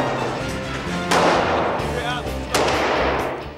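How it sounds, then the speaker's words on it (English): Gunshots ring out at a shooting session, two loud sharp cracks about 1.4 seconds apart with booming tails over a noisy background, and voices murmur throughout. "I might even get the bullets in the actual gun."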